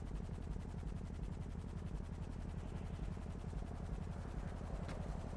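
Helicopter in the game GTA, a continuous rapid rotor chop with a low engine drone, steady and fairly near, running alone without talk.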